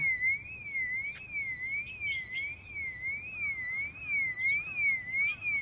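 An electronic alarm going off, a continuous warbling tone rising and falling in a steady repeating pattern, moderately loud with no voices.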